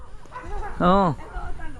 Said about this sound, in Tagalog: Tapos maingay ang aso doon sa kapitbahay.